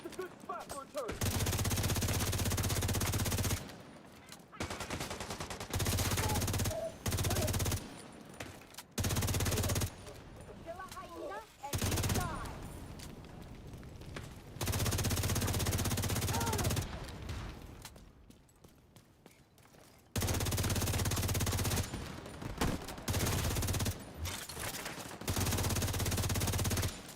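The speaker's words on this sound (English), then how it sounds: "Opening fire!" Sustained automatic gunfire in Division 2, long loud bursts broken by brief pauses, close and heavy, with a voice speaking faintly in the gaps.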